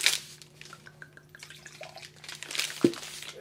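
Water rinsing a wine glass, heard as quiet close trickles and scattered drips with a small splash near the end.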